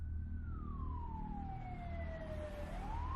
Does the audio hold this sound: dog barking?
no